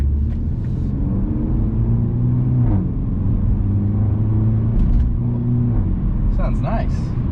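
A 2020 BMW M235i Gran Coupe engine hums steadily while driving, still cold and warming up in comfort mode, a continuous low rumble with a gentle rise in pitch and no talk.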